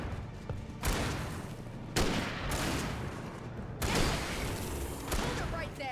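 Rapid bursts of loud gunfire in the video game Alan Wake, three or four sharp volleys of shots with rattling echoes in between, close and dominant, with voices shouting faintly amid the shooting.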